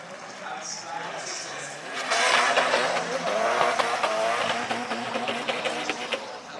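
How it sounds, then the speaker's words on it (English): Race cars crossing the finish line at Mondello Park during a competition run, engines roaring loudly with tyre squeal and skidding, rising sharply midway and staying loud, while a commentator talks over the action. "he's right on the door of Chris Callahan as they cross the line"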